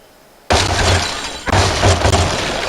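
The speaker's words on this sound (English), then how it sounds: "So there you go, it exploded, blew this castle apart." A castle explodes in a video game, with a sudden loud crash of shattering glass and debris followed by a second burst of breaking and rumbling.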